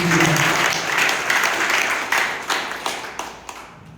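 An audience claps for campaign committee heads at a political campaign launch event in Jeju, a loud burst of group applause that thins into scattered individual claps as it fades out.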